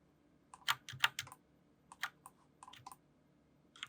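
Keys, including the Alt key, are pressed on a computer keyboard while working in Blender 3D software, giving sharp, close clicks in small clusters separated by short quiet gaps.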